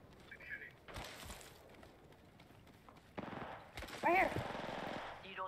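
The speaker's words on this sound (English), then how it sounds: "Who's shooting?" Apex Legends gunfire in Season 11 play: bursts of rapid automatic shots and scattered single cracks, at first distant and then louder and nearer, with voices heard.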